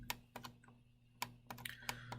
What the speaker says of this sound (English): I'm going to use the delete button on the keyboard.